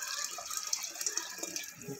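Water is poured into a cooking pot for tomato and vegetable rice, a steady gushing splash that runs continuously at close range.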